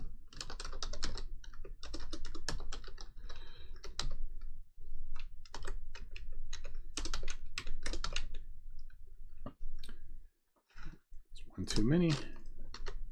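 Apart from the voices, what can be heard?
typing on a computer keyboard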